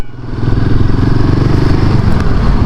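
A Yamaha MT-03 twin-cylinder motorcycle, around 296 cc, rumbles steadily and loudly while riding on a road, its low engine pulse continuous throughout with no voices.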